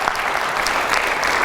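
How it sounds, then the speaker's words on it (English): Applause from a student leadership conference audience, a dense, steady wash of many hands clapping at once, loud and even throughout with no voices rising above it. "Give yourselves a round of applause."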